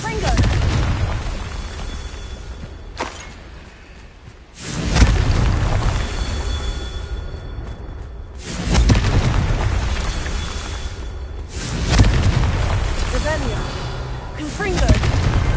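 Blasting-curse explosions from the Confringo spell in the video game Hogwarts Legacy: four loud, booming blasts spaced a few seconds apart over rumbling combat noise, with speech in between.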